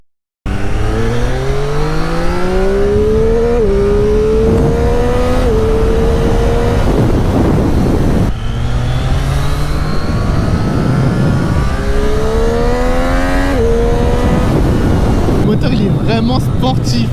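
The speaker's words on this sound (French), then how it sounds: "L'accélération que j'ai tapé là, c'est un truc de fou" A Triumph Street Triple 765 RS motorcycle accelerating hard, its engine note climbing in rising sweeps through several gear changes, loud and close with brief dips between shifts.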